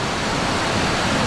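Typhoon floodwater rushes through a rice field: a steady, dense roar of churning water, loud and close, with no break and no voices.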